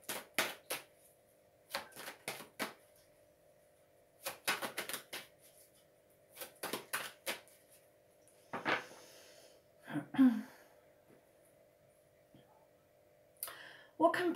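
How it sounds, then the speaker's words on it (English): A Golden Universal Tarot card deck is shuffled in quick bursts of crisp riffling clicks separated by short pauses, close and fairly quiet, with faint breathy sounds and a brief voice near the end. "first I'm going to shuffle"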